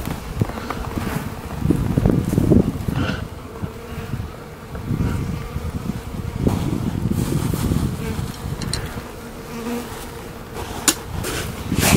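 Honeybees from a newly installed package swarm around a hive, a loud, continuous buzzing that swells and dips as insects fly close, with occasional thumps and handling knocks from the beekeeper.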